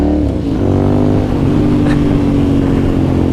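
A 2009 Ducati Monster 1100 fitted with a LeoVince exhaust, its engine running loud and close in a steady, throbbing idle with a slight rise in pitch.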